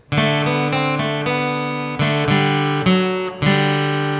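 A short melodic phrase from Deck the Halls picked on acoustic guitar, several ringing notes in an even, unhurried rhythm, close and clear with no talking.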